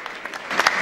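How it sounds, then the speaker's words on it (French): Audience applause for the comedian Gato at a French comedy show, a short dense burst of many hands clapping close and loud. "Applaudissez pour gâteau, s'il vous plaît,"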